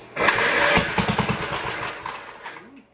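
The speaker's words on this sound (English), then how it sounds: "I'm going to hit the choke. And let's give it some cranks." A 1958 Gravely Model L tractor engine, on choke, cranks and fires, sputtering loudly into a rough, uneven run that gradually fades before cutting off near the end.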